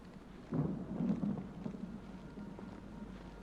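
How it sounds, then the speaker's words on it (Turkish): A low thunder rumble in the horror game Don't Scream rolls in with a sudden swell, then fades into a quieter, sustained rumble with faint rain-like hiss. "Artık şimşekler çarpıyor ya."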